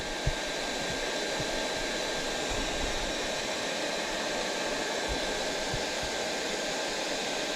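A corded heat gun blows a steady, close, loud rushing whoosh without pause while an HPI Savage nitro RC engine is being worked on, with a few faint low knocks underneath and no speech.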